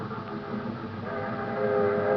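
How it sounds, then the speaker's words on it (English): Steam train effect for a 1949 radio drama, a continuous rumbling rail clatter with a sustained whistle-like tone rising in loudness, heard alone without any voices. "I was just thinking about the train."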